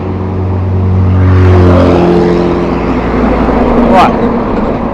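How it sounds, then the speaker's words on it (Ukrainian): A heavy truck passes close by on a road, its loud engine roar swelling over the first two seconds and then fading to a steady rumble, with a voice speaking over it. "фура проїхала."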